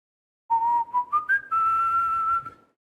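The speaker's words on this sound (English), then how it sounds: "Whistle for him" A person whistles a short, clear tune of sustained notes rising in steps, close and alone with no talk.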